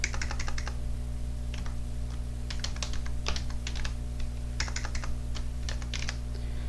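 Bursts of computer keyboard typing, key clicks clustered in quick runs with short pauses, entering text into an Excel custom format dialog, close and clear over a steady low electrical hum.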